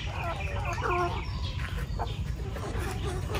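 Several chickens cluck close by in short, repeated calls over a steady low background hum.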